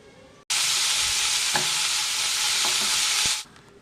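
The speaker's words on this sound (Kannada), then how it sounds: "ಟೊಮೊಟೊ ಹಣ್ಣು ಸಹಿತ ಸ್ವಲ್ಪ ಚೆನ್ನಾಗಿ ಎಣ್ಣೆಲಿ ಬಾಡಬೇಕು." Chopped tomatoes dropped into hot oil in a pan for tawa pulao, a sudden loud sizzle bursting in and holding steady for about three seconds with faint spoon stirs, then cutting off.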